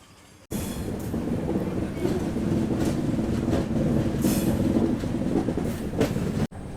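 The Visakhapatnam–Araku Vistadome train runs along a mountain ghat section with a loud, steady rumble of wheels on rails, a low droning hum and occasional metallic squeals, heard from inside the carriage with no voices.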